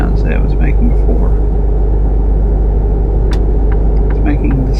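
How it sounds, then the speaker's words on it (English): A truck engine in American Truck Simulator, freshly fitted with replaced main parts, rumbles steadily and loudly throughout, a continuous low drone with some faint brief rattles on top. "So the truck still makes sounds, but not those creaky, rusty metal on metal sounds that it was making before."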